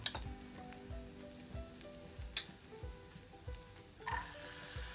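Meat frying in a pan sizzles steadily while black pepper is stirred in, with soft repeated scraping strokes of the utensil close by and no voices.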